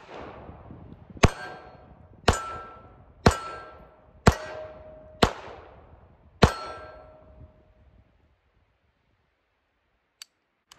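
Six sharp metallic clangs ring out about a second apart as Beretta .380 ACP rounds strike steel targets, each ping decaying slowly, followed by silence and two faint ticks.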